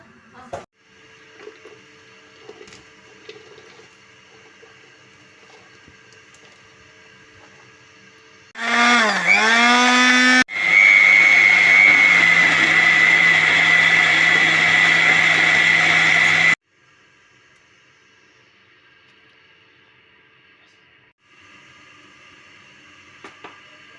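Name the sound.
ginger being crushed into paste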